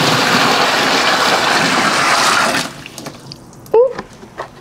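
Water pouring into a rain barrel with a steady loud gushing rush that stops abruptly partway, followed by quieter drips and small splashes.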